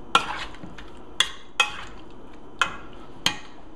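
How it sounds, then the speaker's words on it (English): Spoon stirring salmon pot pie filling with spices in a pot, five sharp scraping clinks at irregular intervals with quiet pauses between. "Mix that all up."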